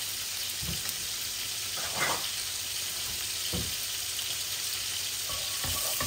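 Dried chillies, two bay leaves and cumin seeds with a little puffed rice sizzle steadily in hot oil, a continuous crackling fry with a few louder spatters and stirring scrapes, close and alone.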